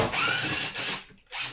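A power drill runs in two quick bursts, a long whir then a shorter one after a brief pause, taking screws out close by.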